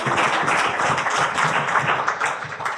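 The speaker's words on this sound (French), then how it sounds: "Vous pouvez l'applaudir, hein?" An audience at a crime-fiction masterclass in Nîmes claps steadily for a speaker, a dense, sustained round of applause throughout.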